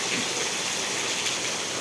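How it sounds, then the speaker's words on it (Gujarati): Heavy winter morning rain in Vejalka village, Ranpur taluka, Botad district, Gujarat, pours steadily, a dense unbroken hiss with no voices. "તમે જોઈ શકો છો સવાર સવારમાં કેવો વરસાદ શિયાળામાં હતો તો ખરા કેટલો અતિ ભારે વરસાદ પડી રહ્યો છે"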